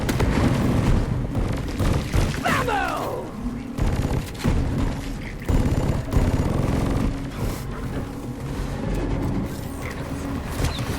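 Loud, dense firing of the Firebolt weapon in Deep Rock Galactic during a Hazard 7 solo mission, with rapid bursts, booming impacts and crashing game combat throughout.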